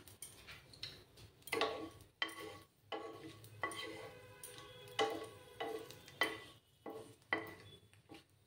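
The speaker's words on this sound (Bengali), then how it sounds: "তেলটা গরম হয়ে গেছে, এবার আমি দুটো শুকনো লঙ্কাকে এইভাবে ছিঁড়ে দিয়ে দিলাম" Torn dried red chillies dropped into hot oil for a Bengali tomato chutney, giving close, irregular crackles and sputtering pops in bursts, with stirring clicks and no talk.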